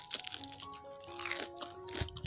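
Biting and chewing a super crunchy Indonesian vegetable fritter (bakwan sayur) eaten with chili or peanut sauce, giving close, crisp crunches in a short irregular burst with no speech.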